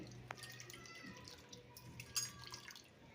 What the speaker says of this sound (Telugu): ఇది రెండోసారి మళ్ళీ ఇట్లా వేళ్ళతోటి మనం కడగాలన్నమాట